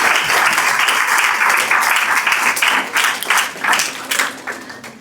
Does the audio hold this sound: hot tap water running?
no